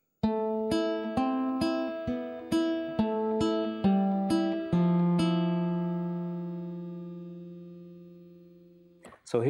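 Measures three and four of Malaguena on guitar, a run of about ten distinct plucked notes alternating low and higher pitches in a steady rhythm, followed by a long fading ring; played solo and close.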